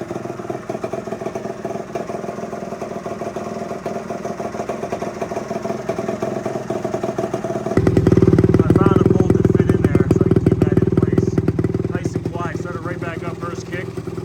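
A 1975 Yamaha DT250 motorcycle engine runs near and steady, first idling low, then revved up briefly and settling back to idle, its clattery two-stroke note continuous throughout.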